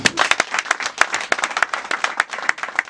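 Applause from an audience at a project presentation for the Commune d'Akanda, with loud individual claps standing out sharply over a thinner crowd patter in an irregular, lively rhythm.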